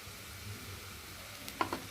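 Onion frying in oil with salt and turmeric gives a soft, quiet sizzle that runs steadily, with a couple of brief utensil clinks near the end.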